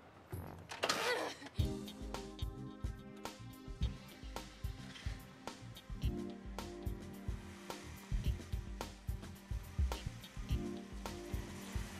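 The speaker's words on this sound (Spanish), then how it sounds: "La moto que no me prende, mamá." An old motorcycle engine failing to start: repeated cranking bursts and sputters in an uneven rhythm, fairly loud and close, with no speech over it.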